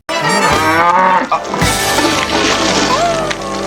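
A cow moos loudly and at length on a farm in a 1993 comedy film, a drawn-out call followed by a sudden splash and clatter, with movie sound continuing underneath.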